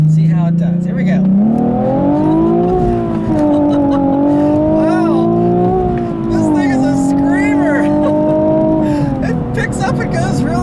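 A 2016 Nissan 370Z NISMO with a 3.7-liter engine and manual gearbox pulls hard on a back road, its loud engine tone rising and dipping through gear changes as a driver talks over it.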